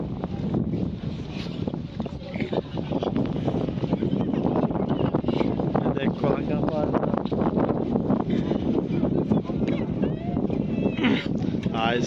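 Wind buffets the microphone during the Santissimo Crocifisso di Colonna patronal feast procession in Trani, a constant low rumbling roar throughout, with crowd voices and talking beneath it.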